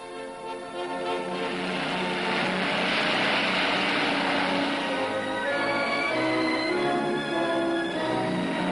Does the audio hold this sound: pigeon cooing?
no